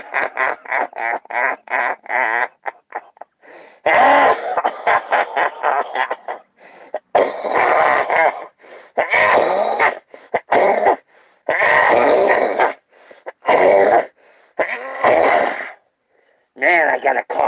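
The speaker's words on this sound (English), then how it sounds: "Man, I got a cough. A fucking cough is what I have." A man coughs in a rapid series of harsh, throaty bursts, then keeps coughing and clearing his throat in repeated fits broken by short pauses, close to the microphone.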